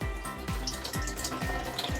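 Water trickles and splutters out of a van shower as it is drained, a steady close gurgling stream broken by regular pulsing surges about every half second, with no talking.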